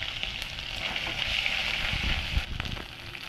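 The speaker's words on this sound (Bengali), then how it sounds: "পেঁয়াজটা আদাটা আমার ভাজা হয়ে গেছে" Onion and ginger fry in a pan with a close, steady sizzle and crackle, an occasional pop standing out near the end.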